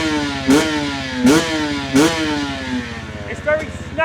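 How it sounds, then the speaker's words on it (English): A two-stroke 250 motocross bike engine revs hard in three sharp throttle blips over a steady idle, each pitch sweep rising and dropping back, followed by a few quicker, lighter blips near the end; close and loud. "let's rev up the 252 stroke"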